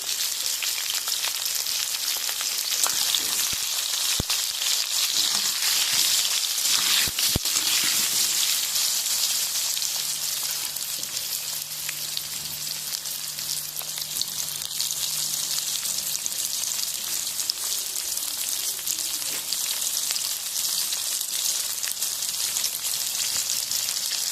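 Mixed vegetables frying in a pan with turmeric for a Bengali chorchori: a loud, continuous close-up sizzle holds throughout, with occasional small pops and crackles and no talking.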